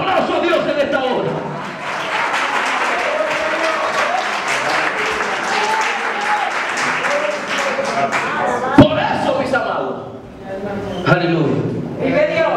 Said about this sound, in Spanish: Dar un aplauso a Dios en esta hora.